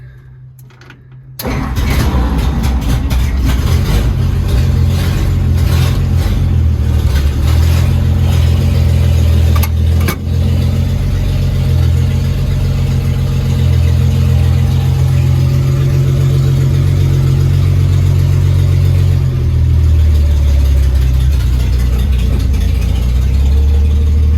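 A rusty 1950 farm truck rat rod cranks and catches, then settles into a loud, close, rumbling idle that holds steady, with a brief dip midway and a slight drop in pitch near the end.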